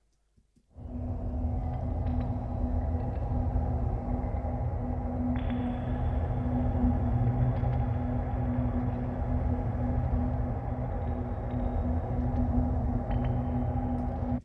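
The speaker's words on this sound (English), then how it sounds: "I decided to put a drone throughout the whole track" A sustained drone from the Blent sample library runs through a music track, a dense steady low hum with a bright tonal layer entering partway, continuous and fairly loud with no break.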